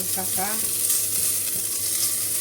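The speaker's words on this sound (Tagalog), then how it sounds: "igisa-gisa muna natin hanggang sa nagigisa muna tayo hanggang sa siya mag-brown" Coarse garlic sautés in a pan with a continuous bright sizzle; a brief voice and a faint utensil knock sit under the frying.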